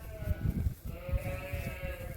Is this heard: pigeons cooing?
no